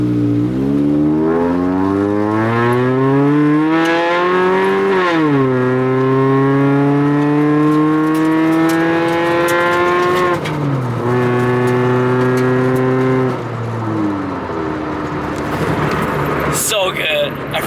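A Toyota tC with a fully custom exhaust drives along, its engine note climbing through the gears in smooth revving sweeps with pitch drops at each shift, heard loud from inside the cabin.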